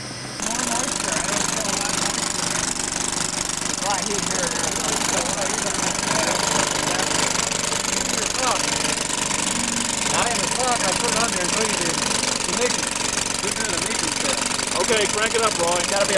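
A 5HP engine runs steadily and loud throughout, a continuous rough knocking drone with people talking over it at times.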